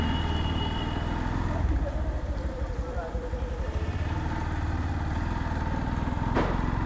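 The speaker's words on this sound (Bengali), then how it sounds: "ইঞ্জিনের যে সাউন্ডটা সেটা কিন্তু অস্থির পাইতেছি" A Yamaha FZS V4 motorcycle engine hums steadily with a low, continuous drone while someone talks over it throughout.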